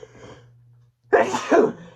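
A single loud sneeze, close to the mic, following a brief faint murmur and a quiet pause.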